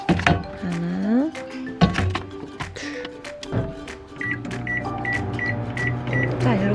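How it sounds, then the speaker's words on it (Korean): A kitchen microwave oven hums steadily, with door thunks and repeated beeps, while a voice talks over it. "전자레인지에 돌려줍니다."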